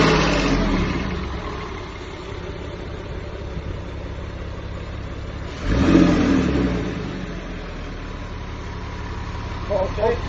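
Porsche engine revving, a loud rise around the middle over a steady idle, while people talk nearby in a workshop setting.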